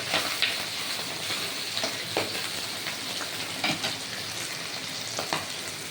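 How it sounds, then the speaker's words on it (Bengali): Pabda fish frying in a hot wok, giving a steady, close, crackling sizzle with small bursts of spatter throughout and no voices. "দেখেছেন কি সুন্দর লাল ভাজা হচ্ছে একদম"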